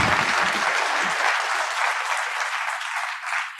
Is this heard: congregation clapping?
yes